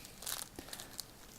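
Plastic packaging around an Asmus Toys Saruman collectible figure crinkles in a few quick, close bursts during unboxing, soft and brief with small pauses between.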